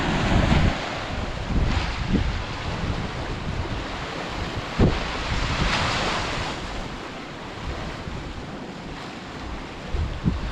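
Chilly wind gusting along the seafront at Tossa de Mar, with heavy broadband rumble of wind buffeting the microphone over the wash of surf, continuous and loud with occasional sharper gusts.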